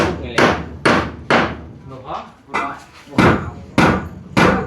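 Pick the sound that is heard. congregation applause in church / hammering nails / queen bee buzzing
hammering nails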